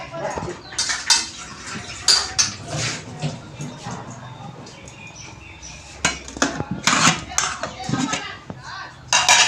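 Plates, pots and cutlery clatter in a home kitchen as rice is served, with sharp irregular clinks and scrapes coming close and loud, while a voice and other voices talk in between.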